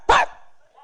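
A person imitates a dog's bark with a single short, loud woof that fades quickly.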